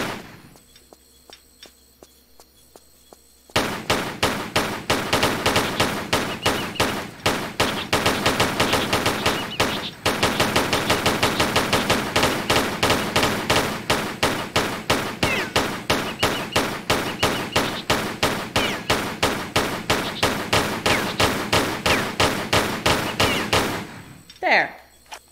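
Sustained rapid automatic gunfire from Tomb Raider III, dense rhythmic bursts running nearly continuously for about twenty seconds after a quieter start, loud and close, with a brief break midway.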